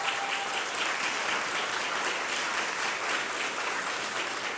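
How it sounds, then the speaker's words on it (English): A crowd at a graduation ceremony applauds loudly and continuously, a dense, even wash of clapping that fills the whole stretch without pause. "So can we give them a round of applause, please?"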